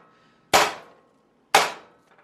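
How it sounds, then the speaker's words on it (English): A hammer pounds raw steaks in a kitchen with two sharp, heavy thwacks spaced about a second apart, each decaying quickly into quiet. "Thor is preparing the steaks with his hammer"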